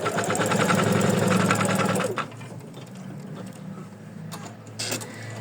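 An embroidery machine stitches lace held in the hoop, a rapid, buzzing mechanical chatter for about two seconds that stops abruptly, leaving quiet handling noises and a couple of faint clicks.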